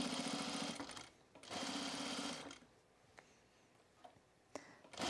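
A sewing machine stitches in the ditch on a Sylvan jacket in two steady bursts of fast, loud whirring, each about a second long. Quiet pauses with faint ticks and clicks follow.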